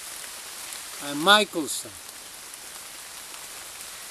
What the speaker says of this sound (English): I'm sitting here under a tree trunk, under the soft rain, not very hard.